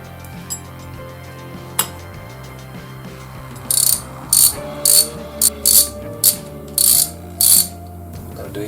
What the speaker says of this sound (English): tighten them up with the specified torque, which is 84 to 105 inch-pound of torque